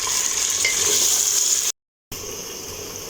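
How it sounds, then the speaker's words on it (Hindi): Ginger garlic paste fries and is stirred in a pan, giving a bright, dense sizzle that breaks off briefly before resuming, close and steady with no talk. "ये अदरक लहसुन का जो पेस्ट है हमारे पास 1 टेबलस्पून वो भी ऐड कर देंगे। अब इसको मैं 2 से 3 मिनट सिर्फ इसकी भुनाई करूँगी"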